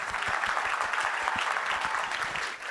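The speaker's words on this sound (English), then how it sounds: "Let's do another round of applause for all our guest speakers" An audience claps continuously for guest speakers at a labor compliance conference, a dense steady patter of many hands at moderate volume throughout.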